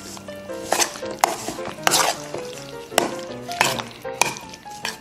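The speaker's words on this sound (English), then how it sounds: "Now I'll mix this up good." A spoon stirs baked beans and bacon in a bowl, making loud, wet, squelching scrapes and clinks in a steady rhythm close up. No one talks.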